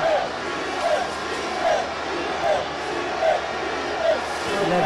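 Stadium crowd of about 26,000 spectators at an inauguration, chanting "IB" in unison with a steady rhythmic swell roughly every second over a dense, continuous roar.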